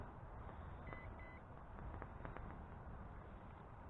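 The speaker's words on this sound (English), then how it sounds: "I think that double beep's prompting me to do compass calibration" Two short electronic beeps in quick succession from a JJRC X11 quadcopter drone prompting compass calibration, faint against a quiet background hum.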